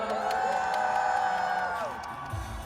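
A concert crowd at a soundcheck cheers and screams loudly as one sustained roar that holds steady, then fades toward the end.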